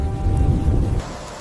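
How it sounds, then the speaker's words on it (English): Heavy rain pouring down in a dense, steady roar of low rumbling wash that drops off abruptly near the end, no voices present. "The sound of heavy rain suddenly increasing, drowning out the world."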